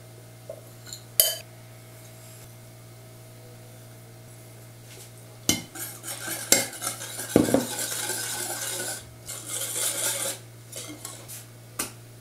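Ingredients for a no-bake cake base, including coconut flakes, are tipped into a cooking pot: sharp metallic clanks and clinks, a scraping pour and spoon stirring against the pot over a low steady hum, with no talk.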